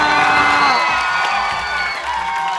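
A studio audience at an Indonesian television variety show cheers and whoops after a band's performance, a dense, loud crowd roar that fills the moment with music-like tones ringing through it.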